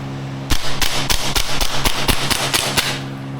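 A Maruyama ISO556 gas blowback airsoft rifle fires about ten sharp, snappy shots in a steady rapid rhythm, loud and close, with no talking.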